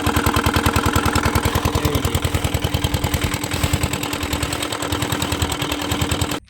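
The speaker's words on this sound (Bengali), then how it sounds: "কাকা নৌকা গায়ে চলে আসলো" A boat engine chugs steadily in a fast, even rhythm close by as the boat pulls alongside in the Sundarbans, running continuously before cutting off abruptly at the end.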